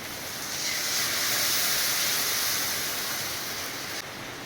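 Water poured into a hot pan of mango kasundi sizzles in a loud, steady hiss that rises and then holds evenly before dropping off abruptly near the end, close by with no talking.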